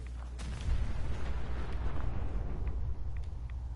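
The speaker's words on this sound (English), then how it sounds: "That car is about to explode." A car exploding in Fallout 4 lets out a deep booming burst followed by a sustained rumbling roar, with a few scattered crackles fading over several seconds.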